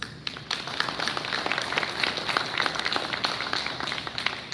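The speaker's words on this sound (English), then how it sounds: "Let's applaud your great work." An audience at a police academy graduation ceremony claps steadily, a dense, even patter of many hands that holds for several seconds at moderate distance.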